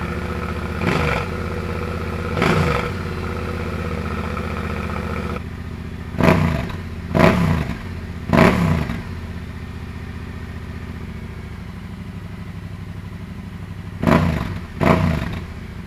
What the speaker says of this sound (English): let's quickly compare the standard Tenere exhaust system to the LV1 EVO Black Edition mounted to an OEM header pipe